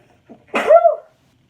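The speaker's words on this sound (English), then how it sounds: "Oh, I'm going to sneeze." A single sneeze, short intake then a sharp burst, close and loud, surrounded by silence.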